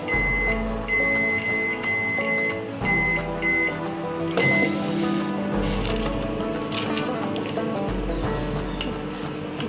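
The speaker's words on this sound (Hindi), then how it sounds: "हम माइक्रोवेव को 180 डिग्री पे 10 मिनट के लिए प्री हीट कर देते हैं।" Microwave oven preheating to 180 degrees for cake baking: a low steady hum broken by pauses, with a few short electronic beeps and tonal sounds near the start.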